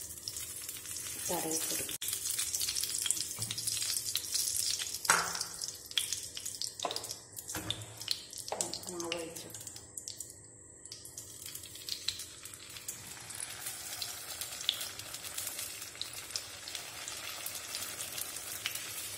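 Coconut oil sizzling and crackling in a hot unniyappam pan, a steady near hiss with brief louder bursts and clatters, a short spoken phrase passing over it.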